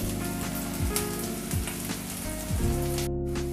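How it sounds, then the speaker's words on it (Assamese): Onion frying in a pan, a steady crackling sizzle close by with a soft rhythmic scraping of a spatula every second or so, and a brief humming tone beneath; no one speaks. "তেতিয়ালৈ আমি অলপ পিঁয়াজটো ফ্ৰাই কৰি ল'ম"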